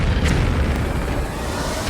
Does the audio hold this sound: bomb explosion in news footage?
yes